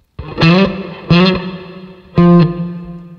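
Bass notes run through a Line 6 HX Stomp XL with a very wet legacy hall reverb, three plucked notes ringing out one after another, each leaving a long, washy tail in between.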